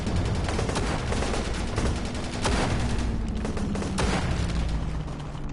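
Steady gunfire from a World War II D-Day battle in the virtual-reality video game Medal of Honor, with dense rapid automatic bursts and sharp shots rolling on continuously at high volume.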